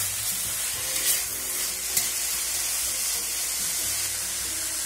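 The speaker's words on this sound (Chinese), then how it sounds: "接着穿过水的土豆丝下，大火快炒几下即可调味" Rinsed shredded potatoes stir-fried over high heat with chili or green pepper, sizzling steadily and close, with a couple of sharp clicks from the spatula striking the wok.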